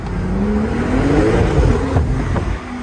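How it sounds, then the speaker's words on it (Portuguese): A Porsche sports car with no roof accelerates hard in first gear, its engine note climbing steadily and loud and close over a few seconds. "É um carro muito veloz, então eu vou só acelerar de primeira marcha para vocês verem."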